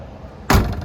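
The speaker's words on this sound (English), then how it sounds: "doors open and close really nice." The door of a 1964.5 Mustang Pace Car swings shut with a single solid thunk, loud and close, following a quiet stretch of low background hum.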